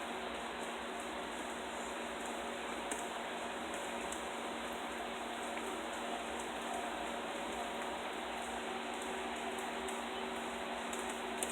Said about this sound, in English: Raining under a pretty blue sky.